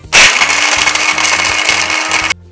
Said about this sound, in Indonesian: Sekarang Mentos yang kedua yang bakal gua blender juga.